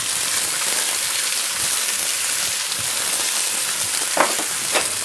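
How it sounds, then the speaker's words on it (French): Onions dropped into a hot pot for osso buco hiss with a dense, even sizzle, close and constant, with a couple of faint utensil knocks near the end. "Je vais donc rajouter les oignons."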